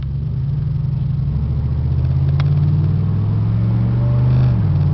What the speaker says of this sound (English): Wait to see how much power this car has.